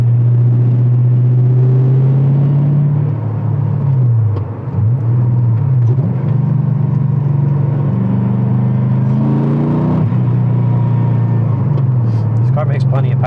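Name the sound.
LS2-swapped Porsche 911 driving in 5th gear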